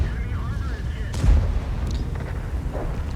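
A single heavy cannon blast from the Type 5 Heavy tank in a video game booms once with a sharp crack and brief rumbling tail, set under ongoing talk.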